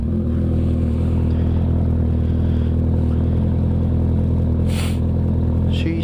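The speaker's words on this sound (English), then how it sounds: "I know you guys are super excited about hearing this Voodoo exhaust because it's pretty awesome" A 2016 Kawasaki ZX14 with a Voodoo exhaust, baffles in, idles with a steady, deep, even drone, close and constant throughout, with a brief hiss of noise near the end.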